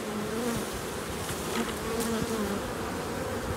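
Honey bees from an aggressive colony buzz loudly and continuously near the hive, a dense droning hum with individual bees whining past at shifting pitches, no speech.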